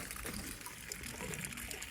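Water steadily drains with a soft, continuous trickling hiss from a 2017 Grand Design Imagine RV tank after its plug is pulled, faint and unbroken with no talk.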